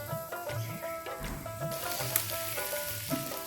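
Fried pointed gourd and chopped green chilli sizzle in a pan with fish roe, a continuous close crackle broken by soft bumps of stirring and pieces dropping in.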